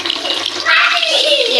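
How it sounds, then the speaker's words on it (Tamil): Hands are washed under a running tap in a home kitchen: a close, loud gush of flowing water splashes steadily, with a voice speaking over it at the start. "நம்ம வந்து கை கழுவிக்கலாம்"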